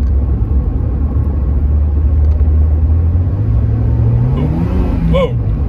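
A 1991 Mercedes-Benz 190E with the 2.0 engine kicks down and accelerates at full throttle, a steady loud engine drone rising in pitch toward the end, heard from inside the cabin.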